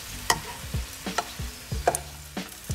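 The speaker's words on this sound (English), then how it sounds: "fried corn tortillas for your shells instead of the store-bought ones" Corn tortillas fry in hot oil for taco shells, with a soft background sizzle broken by several sharp clinks and scrapes of a utensil against the pan, close by and at an irregular pace.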